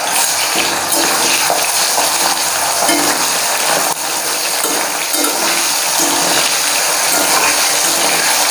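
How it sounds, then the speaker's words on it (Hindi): Homemade chips frying in hot oil, a loud, dense, steady bubbling hiss that fills the whole stretch with faint clinks now and then. "देखो कितना अच्छे से फ्राई हो रहा है"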